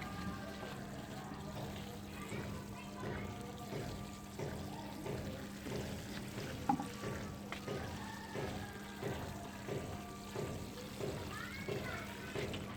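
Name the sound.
watering a transplanted tomato plant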